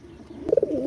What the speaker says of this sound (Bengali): ভিউয়ার্স এই একজোড়া গলায় লাল কবুতর দেখেন, গলায় লাল সিলমারা কবুতর, খুবই কোয়ালিটিফুল কবুতর।